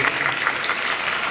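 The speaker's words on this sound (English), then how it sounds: "A round of applause please for Madam." Audience applause at a Miss Teen Philippines 2019 pageant, a brief burst of dense hand clapping from a crowd, steady and moderately loud throughout.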